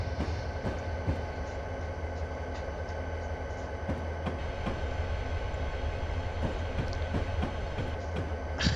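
A freight train crossing a bridge in Train Simulator 2020 on the Soldier Summit route out of Helper, with a steady low rumble of the train and repeated metallic wheel clicks and taps over the rails.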